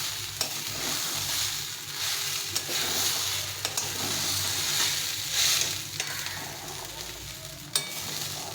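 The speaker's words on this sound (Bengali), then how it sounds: "এইভাবে বেশ কিছুক্ষণ ধরে ভালো করে ভেজে নিতে হবে।" Onion, garlic and rice-lentil khichuri ingredients frying in a pan with turmeric: a steady close hiss of frying with repeated spatula scrapes and stirring clatter throughout, no talk.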